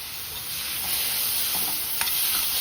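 A large chopped tomato stir-fried in hot masala in a pan: a steady close sizzle with soft scraping stirs and a small clink near the end, no voices.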